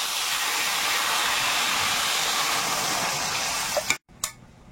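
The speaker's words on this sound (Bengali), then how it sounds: "এবারে জল দেবো।" Water is poured into a pan of fried papaya, making a loud continuous rushing hiss that cuts off abruptly near the end, followed by a short burst.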